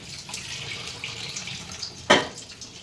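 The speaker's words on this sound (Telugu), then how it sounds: "గిన్నె చిన్నగా ఉంది కాబట్టి వాటర్ సపరేట్ తీస్తున్నాం" Starchy water drained off partly cooked rice from a small pot, a continuous trickling flow with one louder splash near the end, heard up close and alone.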